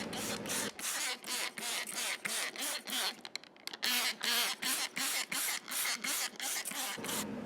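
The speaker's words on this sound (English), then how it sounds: "You want to spray the window grooves." A hand spray bottle spritzes mold-killing solution onto a window and its grooves, a rapid series of short, hissing pumps in a fairly steady rhythm, close and loud.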